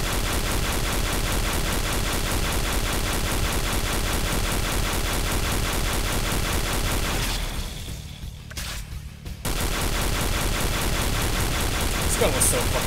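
Sustained rapid machine-gun fire in C&C Renegade, a dense unbroken rattle that cuts out briefly for about two seconds and then resumes at full, close, loud intensity.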